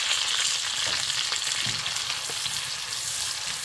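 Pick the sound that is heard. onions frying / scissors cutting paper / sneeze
onions frying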